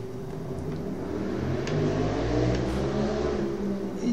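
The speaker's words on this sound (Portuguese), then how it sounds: "a moto quase passou aqui dentro de casa" A motorcycle engine roars loudly past a house outside, swelling to a peak midway and then easing, with a steady mid-pitched revving drone throughout.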